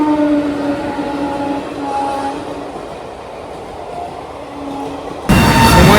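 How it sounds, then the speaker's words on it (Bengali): The Pondicherry–Howrah superfast express departing Balasore station rumbles steadily with a low mechanical drone and faint tonal hums, then a louder broadband rush swells in near the end. "আর আমাদের ট্রেন বালাসোর ছাড়লো"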